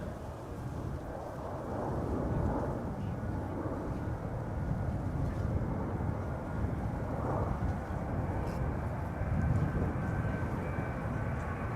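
A KLM Boeing 777 arriving at Amsterdam Schiphol Airport produces a steady, distant engine roar throughout, broad and rumbling without distinct peaks.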